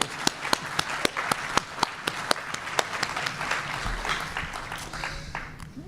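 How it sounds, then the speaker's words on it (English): An audience applauds in honour of Randall Rosenfield at an astronomy society general assembly, with a few loud, close, evenly spaced claps standing out over a softer background of general clapping that slowly thins out. "let's all take a deep breath and applaud the services of this wonderful person"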